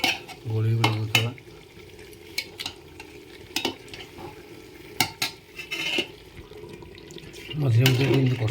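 Desi chicken curry is stirred in a pot with scattered scraping and knocking spoon strokes, soft sizzling and some watery sloshing, and louder bursts at the start and end.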